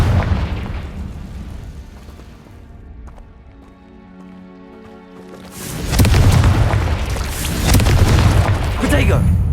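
Confringo blasting spell in the video game Hogwarts Legacy, a loud booming burst that dies into a quieter lull before another heavy crackling blast erupts. Speech-like voices are mixed in throughout.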